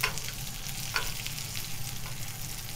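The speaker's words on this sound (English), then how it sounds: "So you want your butter nice and foaming, but not too high a heat so that the butter doesn't burn" Butter foams and sizzles in a pan while fish is basted, a soft, steady crackle with occasional spoon scrapes and spattering pops, fairly quiet and close.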